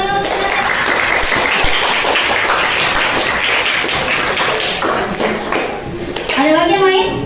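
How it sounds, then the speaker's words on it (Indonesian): A classroom of students claps for a classmate's correct answer, a dense burst of close applause lasting several seconds before fading, followed by a voice speaking. "Tepuk tangan dulu."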